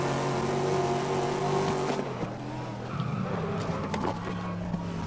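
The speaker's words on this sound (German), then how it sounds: "der Porsche, der geht hier schon vorbei" A Porsche race car in GRID sweeps past on a track, its engine tone loud and shifting as it passes, with other racing engines droning steadily underneath.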